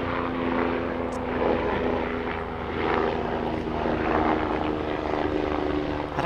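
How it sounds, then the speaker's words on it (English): A news helicopter passes overhead, a loud droning engine hum that swells and fades slightly, steady for several seconds with no talking. "Got a helicopter flying over."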